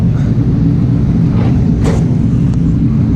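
Race car idling and rumbling steadily while lining up for qualifying at a HI-TEC round, a loud, constant low engine drone close by with no talk.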